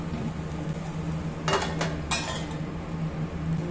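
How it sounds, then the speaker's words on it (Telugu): A metal lid is set on a pan of frying egg dosa, making two close, bright clanks over a steady background hiss. "మూత పెట్టి"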